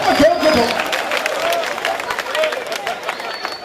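A crowd at a political rally claps and cheers in a rough, busy burst under a loud, energetic speaker talking over it.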